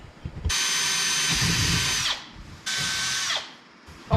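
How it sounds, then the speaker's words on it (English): A power drill whines loudly and close in two long bursts, spinning up and winding down, as holes are bored for a bass boat mount installation. "So now I'm gonna drill the rest of the holes."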